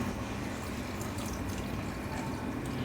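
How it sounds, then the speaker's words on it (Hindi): Milk pours into a grinder jar holding spinach for palak gosht, making a soft, continuous liquid pour close by against a constant background hiss with no talking. "बाकी की पालक भी ऐड कर देते हैं, साथ ही थोड़ा सा दूध और ऐड करेंगे।"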